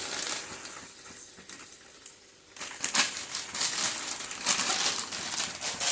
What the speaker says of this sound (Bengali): একটু গুঁড়ো করে দেব।